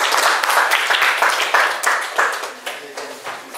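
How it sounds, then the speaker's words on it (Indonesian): Classroom applause from a group of students, a burst of clapping that starts loud and tapers off over a few seconds, with voices mixed in. "Tepuk tangan."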